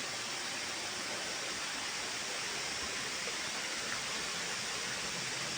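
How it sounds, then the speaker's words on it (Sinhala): A hidden waterfall in Sri Lanka pours down in a steady, broadband rush of water, continuous and even from a moderate distance, with no voices over it. "ඔයාලට පේනවා ඇති අර පැත්තේ සීක්‍රට් ඇල්ල කඩාගෙන හැලෙනවා"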